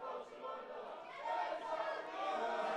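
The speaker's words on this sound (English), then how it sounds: "Both sets of fans trying to outdo the other in noise" Darts fans from both sides of the crowd at a final game cheer and roar loudly, a dense sustained wall of noise that swells midway and stays high with chatter mixed in.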